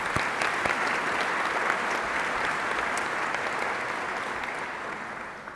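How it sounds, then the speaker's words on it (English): An audience at an interfaith prayer breakfast claps in steady, sustained applause that fills the room and slowly tapers off toward the end. "Please join me in giving them a round of applause."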